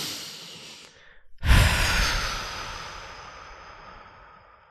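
One person takes a slow, deep breath in and lets it out in a long audible sigh, close and clear, with a brief pause before the exhale trails off.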